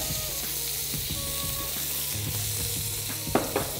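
Onion and garlic paste frying in a pan for a fish muitha dish, sizzling continuously up close while a utensil stirs with soft scrapes and a couple of sharper knocks near the end.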